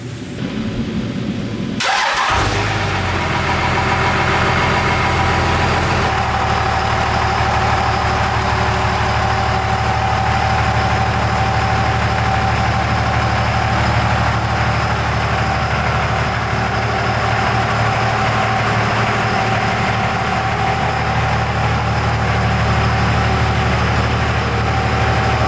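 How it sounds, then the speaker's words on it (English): A second-generation Dodge Ram pickup with a Cummins diesel engine cranks and starts, then settles into a loud, steady idle close by, with a constant low drone throughout and no talking. "we're gonna back the truck out and turn it around"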